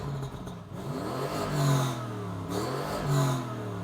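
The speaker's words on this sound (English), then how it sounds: "And you can actually hear it rev up." A cold Lamborghini Urus SUV, still warming up in Corsa mode, revs hard twice, each climb rising to a loud peak and falling back, with its engine droning steadily between the bursts and no voices over it.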